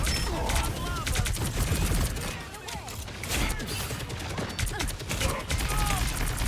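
Rapid gunfire from the video game Marvel Rivals, dense bursts and overlapping shots with busy effects, loud and continuous, while players talk excitedly over it.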